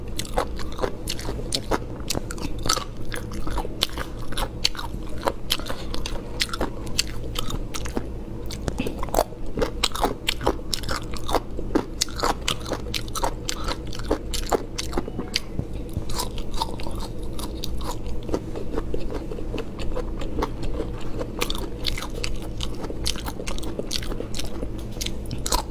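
Chicken feet being bitten and chewed close to the microphone, a continuous run of crunchy bites, cracks and wet chewing sounds over a low steady background hum.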